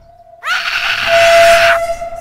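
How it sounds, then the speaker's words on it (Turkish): A scream in the Hello Neighbor mobile video game bursts in loud and shrill, holding a piercing, steady pitch for over a second before cutting off abruptly. "Bu nasıl bir çığlıklar?"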